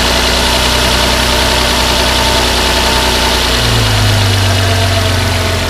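A Land Rover Freelander 3.2 24v petrol engine idles steadily after a spark plug change, a loud close hum with a constant low drone, settling to a slightly lower pitch near the end.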